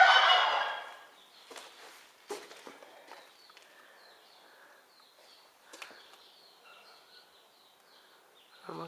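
A turkey hen sits on hatching guinea fowl keets. An opening burst of rustling gives way to faint, scattered soft peeps, fluttering and shuffling sounds close by in a quiet setting.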